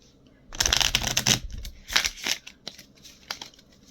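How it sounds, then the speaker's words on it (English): Tarot cards being cut and shuffled by hand, a burst of riffling and slapping card noises for about a second, then a few shorter crisp card flicks, close and clear with no talking. "We're just going to cut the cards here and see what happens."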